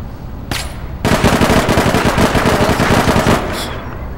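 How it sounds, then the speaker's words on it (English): Loud, close automatic gunfire in the online shooter game APB Reloaded: a brief burst, then a sustained rapid stream of shots lasting over two seconds, followed by a short trailing burst. "they're just shooting anywhere"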